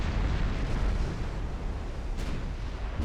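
Heavy shells striking a battleship's armor belt in the naval game Ultimate Admiral Dreadnoughts, a continuous rumbling roar of distant impacts and gunfire with one sharper burst partway through.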